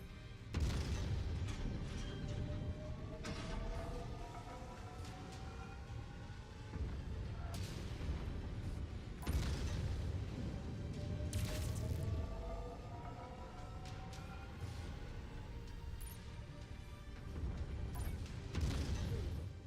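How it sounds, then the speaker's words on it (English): Explosions and blasts in the Satisfactory video game, a nuclear power plant build, rumble through the whole stretch in repeated heavy booming bursts with sweeping tonal effects layered over them and no talking. "That explosion just about filled the whole screen, Uncle Samuel."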